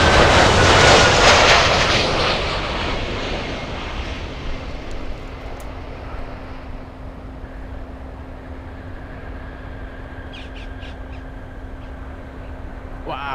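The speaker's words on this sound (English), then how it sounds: "Wow, screaming CF6 engines. 10 out of 10 in the sound department." Jet airliner with CF6 engines at Miami International Airport, a loud roaring pass that fades into a distant steady engine whine with a low hum.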